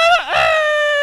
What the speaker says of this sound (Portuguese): De manhã, quando o galo canta.